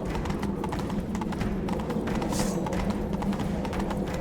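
Roach, the horse in The Witcher 3, gallops with steady, rapid hoof clip-clops over a constant game background, close and continuous, with no speech.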